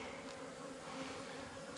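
Honey bees drone steadily in a continuous, close buzz at an open beehive during an inspection, with no speech over the hum.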